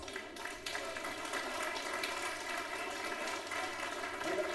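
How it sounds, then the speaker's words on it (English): A crowd claps continuously at moderate distance for competitors at a state bouldering championship in a climbing gym, a dense and steady patter of applause throughout. "just let's give them all the clap and big thanks"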